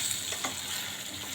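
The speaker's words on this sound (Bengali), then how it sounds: "এবার আমরা ডিম দিয়ে নেড়ে নেব।" Eggs are stirred into fried potatoes in a pan, a brief, soft sizzle with a faint scrape or two from the spoon, heard close and without speech.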